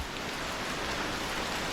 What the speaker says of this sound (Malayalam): മഴ നല്ല രീതിയിൽ ശക്തി പ്രാപിക്കുകയാണല്ലോ